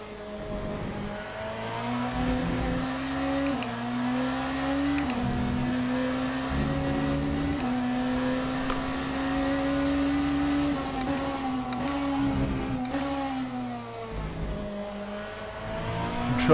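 Hypercar engine in the racing sim Le Mans Ultimate, droning steadily with rising and falling revs through gear changes and throttle lifts, close and continuous with no talk.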